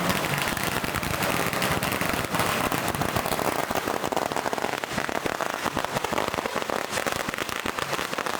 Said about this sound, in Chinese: 每当龙舟靠岸时，村民会在岸边放炮